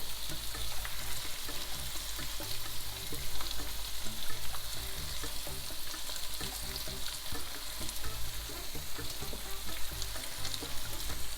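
Pieces of salt cod fry in oil in a pan, a dense, continuous crackling sizzle heard up close with faint stirring, and no one speaking.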